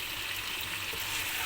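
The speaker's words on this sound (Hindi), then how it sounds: "यहाँ हम इसमें जो ब्राउन करके प्याज निकाली थी वो डाल देंगे थोड़ी।" Browned onions added to a pan of cooked mutton karahi, giving a steady, close sizzle and soft frying hiss without talk.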